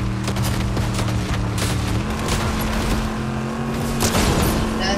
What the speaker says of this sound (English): Alright, just start shooting.